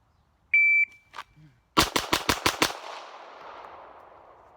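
A Glock 19 pistol fitted with a Southwest Precision stubby compensator fires five rapid, loud shots in quick succession, each sharp crack ringing out into a decaying outdoor echo, preceded by a couple of electronic timer beeps.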